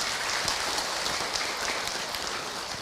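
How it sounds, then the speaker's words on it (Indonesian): Steady, dense applause from an audience at an Islamic talk, a continuous wash of clapping held at an even level for the whole stretch, with no voices. "Tepuk tangan untuk kita semua"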